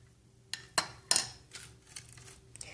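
Metal spoon pressing a tea bag down in a cup, giving a few quiet clinks and taps against the cup, with soft rustling between them in a quiet room.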